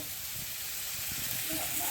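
Mango pieces frying in a pan for a jaggery mango pickle give a steady, close hiss and sizzle that runs without a break, with a few soft low bumps from stirring.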